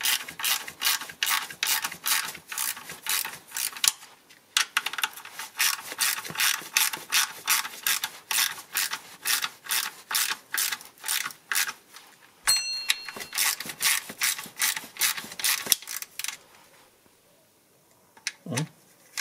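Ratchet tightening bolts on the oil level sensor of a 2006 Mercedes C200, a long run of fast, even, close clicking in steady bursts with brief pauses, then a quieter tail.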